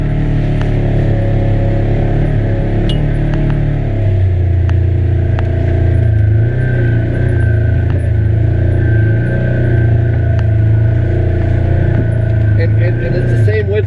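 A Polaris RZR 900 Trail UTV crawling in low range, its engine a steady low rumble close by as people chat over it throughout.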